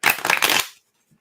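A deck of cards shuffled for a tarot-style reading, one quick close riffle of crisp rapid flutter lasting about half a second, then near silence.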